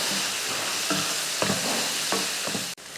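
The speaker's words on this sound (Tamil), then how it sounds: "அடுப்பை வந்து ஹை ஃப்ளேமில் வச்சு நல்லா வதக்கி விடுவோம்." Bitter gourd sautéing in a pan over a high flame, with a steady loud sizzle broken by several scraping stirs before the sound cuts off abruptly near the end.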